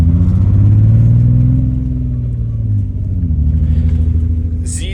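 A BMW E34 Touring engine fitted with a single muffler exhaust revs loud and close, its deep rumble swelling and easing over several seconds with no talk.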